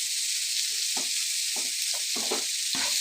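Onions, curry leaves and garlic frying in hot oil give a loud, dense, continuous sizzle and crackle, with a few low stirring scrapes underneath.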